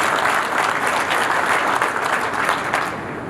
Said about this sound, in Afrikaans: Kom ons gee haar 'n hande klap